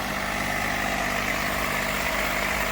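A tractor engine idles steadily while the tractor sits stuck in mud in a field, a continuous low rumble with a constant drone, close and unbroken throughout.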